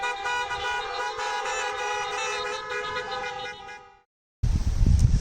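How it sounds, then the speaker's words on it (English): Car horns blare together in a parking lot during an outdoor school gathering, a sustained chorus of honks lasting about four seconds before cutting off, followed by rumbling wind-like noise. "Let's honk our horn real quick."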